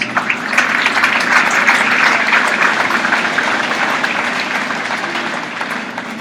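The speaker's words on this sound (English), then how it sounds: "So give him a big round of applause." An audience at a university livestock show event applauds, a loud continuous spread of clapping lasting several seconds with a faint low rumble beneath and a gradual slight fade.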